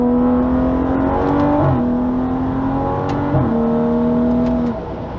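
A car's engine climbs steadily as it accelerates to highway speed, the pitch rising and dropping back twice at quick gear changes, heard from inside the car with a smooth, continuous drone.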